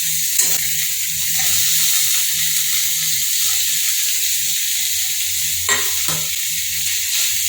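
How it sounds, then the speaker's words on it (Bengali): Brinjal and leafy greens fry together in a pan, a loud continuous sizzling hiss with a low hum beneath and a few spatula knocks and scrapes. "এবার আমি এর মধ্যে বেগুনটাও দিয়ে দিব।"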